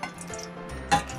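Broth poured from a vending-machine can of oden into a pot: a short close trickle and splash of liquid with a brief louder gush near the end.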